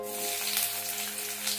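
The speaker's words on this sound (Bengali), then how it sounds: "দিয়ে দিচ্ছি সরিষার তেল, দিয়ে দিচ্ছি পেঁয়াজ" Onions hit hot mustard oil in a pan and sizzle in a soft, even crackle that holds steady through the short moment.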